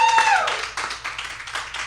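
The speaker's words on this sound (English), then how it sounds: "Let's give a big round of applause." Audience applause at a bookstore event at Skylight Books, a short burst of clapping from a crowd indoors, fairly close and steady, fading after a couple of seconds.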